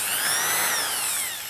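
An Einhell 1010 W impact drill running forward, its motor whining at a steady high speed for the whole stretch, loud and close, easing slightly in pitch near the end, with no talk over it.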